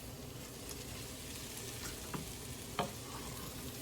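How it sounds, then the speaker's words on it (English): Garlic and greens sauté in a pan with a steady, soft sizzle and crackle, joined by a few faint stirring ticks and one brief clatter, with no one talking. "So now we're gonna add our greens to this pan."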